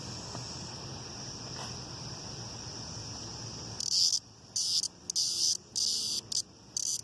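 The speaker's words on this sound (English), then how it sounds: "I just show you this kuliglig or cicada we call them here." A cicada buzzes loudly and close in a steady high drone that breaks into rhythmic pulsing bursts separated by short pauses, over faint background noise, with no talking.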